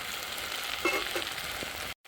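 Mixed vegetables frying in a home kitchen pan, a steady broadband sizzle with a few faint stirring clinks, moderately loud, cutting off abruptly near the end.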